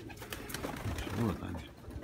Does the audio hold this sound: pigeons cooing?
yes